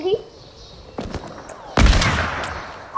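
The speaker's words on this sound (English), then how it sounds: "Somebody sniping. Be careful." Sniper rifle fire in the video game Fortnite: a few sharp, loud shots crack out separately at irregular intervals, each followed by a short decaying tail.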